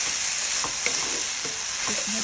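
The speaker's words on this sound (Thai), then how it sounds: "คลุกให้เต็มข้าวกับเครื่องดีเลยนะคะ" Pad Thai noodles are tossed with seasoning and fried shallots in a sizzling pan, with a loud steady hiss broken by quick scraping stirs and light clinks of a utensil, no talk.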